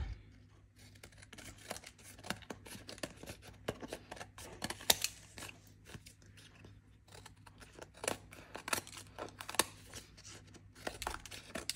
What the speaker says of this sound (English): Now just take your scissors and cut all those